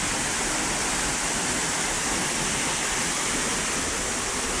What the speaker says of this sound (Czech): to je řeka. To se to zvedá.